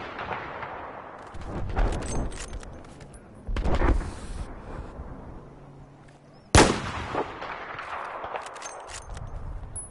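Battlefield 4 game gunfire and explosions on a map near the Caspian border, with several booming blasts and rattling shots at intervals, one sharp loud crack standing out partway through, over a rumbling battlefield background.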